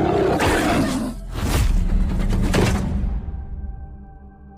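A lion roars in attack, a loud, rough, sustained growling roar with heavy thuds inside it, which fades into a low ringing tone near the end.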